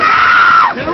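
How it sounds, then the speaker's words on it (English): A single loud, close scream holds a steady high pitch for more than half a second, then breaks off and drops away, with no other sound around it. "Screaming's not allowed."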